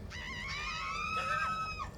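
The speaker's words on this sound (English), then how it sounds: "A blood-curdling scream has just been emitted from upstairs" A blood-curdling scream, a long wavering high-pitched wail that rises and bends over about two seconds, faint and somewhat distant over a low background hum, with no speech.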